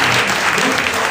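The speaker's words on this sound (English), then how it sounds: "I think give them a round of applause." An audience at a weight-management graduation event applauds, a dense, even burst of clapping from many hands, loud and close, with some voices mixed in.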